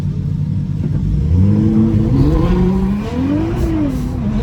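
Drag race cars, including a twin-turbo Audi R8 with over 1000 horsepower, rev loudly at the start line, engine pitch climbing and wavering in overlapping rising sweeps over a constant roaring rumble.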